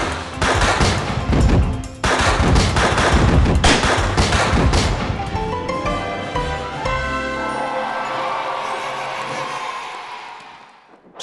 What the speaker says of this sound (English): Those fireworks will light up the sky!